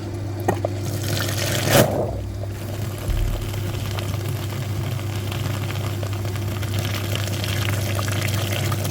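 A cooling system flushing machine hooked to the heater core radiator of a Chevrolet Lacetti starts up, a sharp knock followed by a steady liquid pumping rush over a low motor hum, close and continuous.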